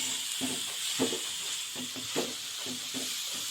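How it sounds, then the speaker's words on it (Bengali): Grated coconut and sugar fry in a pan for laddu, a quiet hiss under a steady run of rhythmic spatula stirs and scrapes, close and soft. "চলো আমরা কিছুক্ষণ এটাকে ভালো করে ভেজে নিই"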